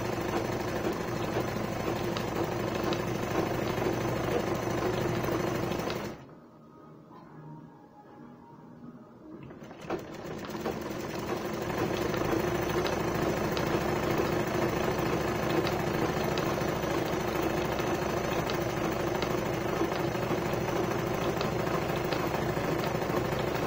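A sewing machine stitches gown pieces together in a steady, rapid mechanical whir that runs close and continuous, drops out for a few seconds, then starts again and carries on evenly to the end.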